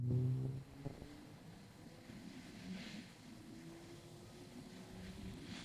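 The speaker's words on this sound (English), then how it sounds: "Oh my God, what a smooth engine." A CFMOTO four-cylinder motorcycle engine runs with a smooth, steady hum at moderate volume, with a faint rising tone and some wind rush over the microphone.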